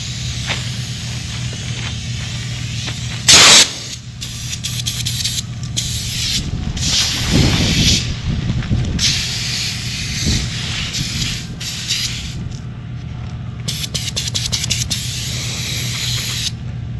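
Spray gun painting front suspension struts, a long steady close hiss of paint spray that swells and fades in bursts over about seventeen seconds, with no talk.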